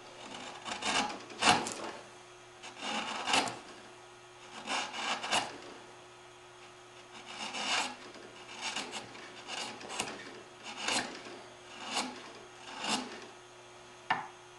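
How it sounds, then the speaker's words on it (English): Bench chisel paring curly maple by hand, a spice box part being cleaned up: a series of short, crisp rasping shaves that repeat at an irregular rhythm, close and moderately loud, with no voices. "Switch to a bench chisel."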